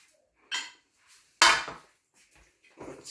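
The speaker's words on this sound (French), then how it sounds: "Je vais mélanger" Food stirred in a pot with a utensil, giving a few separate clanks and scrapes against the metal. One sharper knock stands out in the middle, with quiet gaps between strokes.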